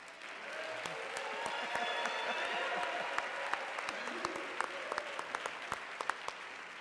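An audience at a mayoral education forum applauds, a steady, moderately distant wash of clapping that swells and holds, with a few sharper individual claps standing out toward the end.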